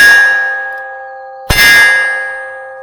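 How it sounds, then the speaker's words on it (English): A .22 Magnum bullet from a North American Arms folding revolver strikes a steel target about 10 feet away with a single sharp metallic clang, leaving a sustained bell-like tone that fades slowly, with an earlier ring still decaying before the hit. "I'm gonna shoot this at a steel target from about 10 feet away"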